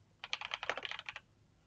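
Rapid typing on a computer keyboard, a quick run of about a dozen crisp key clicks lasting about one second, close and clear against a quiet background.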